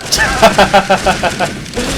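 Ghost unit gunfire in the StarCraft video game, a rapid run of about eight sharp, loud shots in quick rhythm, followed by softer game sounds.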